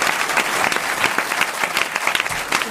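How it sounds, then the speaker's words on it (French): Studio audience applause at a live French comedy radio show recorded at the Alpe d'Huez festival, dense steady clapping filling the whole stretch with scattered sharper claps and no talk. "On peut applaudir Pierre Bénichou."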